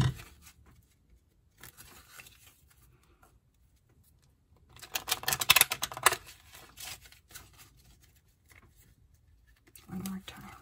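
A short burst of rapid papery riffling as tarot cards are shuffled, close and crisp, amid quiet handling sounds and soft talk.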